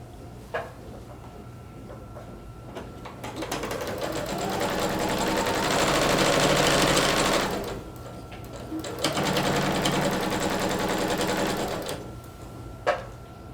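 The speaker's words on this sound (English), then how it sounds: "move my needle to the left so that I sew along the left side of the bias binding." Sewing machine stitching along bias binding on a skirt, two sustained runs of steady motor whirr separated by a short pause, close and fairly loud with a few clicks at the start and end.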